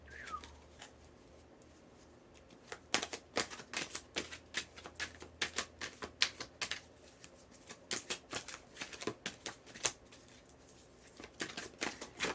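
Tarot cards are shuffled and drawn, making a long run of close, sharp papery snaps and riffling flicks in an uneven rhythm with no talking.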